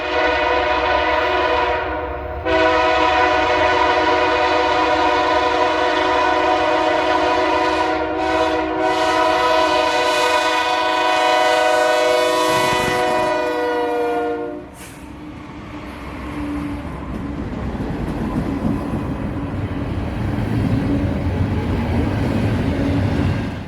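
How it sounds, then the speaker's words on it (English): BNSF intermodal freight train 284, led by a BNSF Heritage II AC4400 and a GE, passes with its air horn blaring loud and sustained for about fourteen seconds, then the rumble and rattle of rolling freight cars continues. "The train would turn out to be 284, coming out of Memphis, Tennessee off of the BNSF down to Inman Yard in Atlanta"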